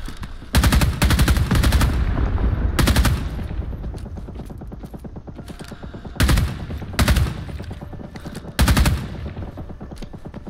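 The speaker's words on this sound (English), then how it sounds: "Covering fire." Bursts of machine-gun fire from a Vietnam War firefight in the Rising Storm video game, several loud sustained volleys separated by short pauses, with a constant battlefield rumble underneath.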